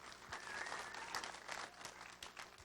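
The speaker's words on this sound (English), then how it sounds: "let's give a round of applause to Alamo Drafthouse Littleton" Applause from a live cinema audience at the Alamo Drafthouse in Littleton, steady and moderately distant, a soft even wash of many clapping hands.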